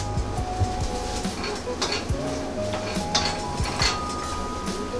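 Shallots being stirred around a cooking pan over gentle frying, with steady metallic scraping and clinks of a utensil against the pan over a continuous low sizzle, close and fairly loud.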